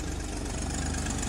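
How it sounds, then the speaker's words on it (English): A car engine with breaker-point ignition idles steadily, a small exhaust leak noted: a continuous low, throbbing rumble with a faint rhythmic pulse, close and even throughout, with no voices. "It's got a little exhaust leak."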